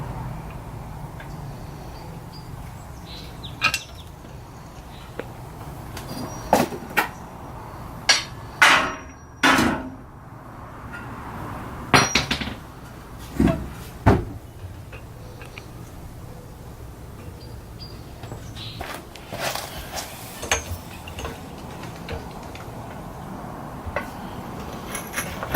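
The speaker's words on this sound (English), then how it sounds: "I am ready to loosen some of the rear subframe bolts." Rear subframe bolts being worked loose on a Mazda Miata, heard as a scattered series of sharp metallic knocks and clanks, some close together and some isolated, over a low steady background hum.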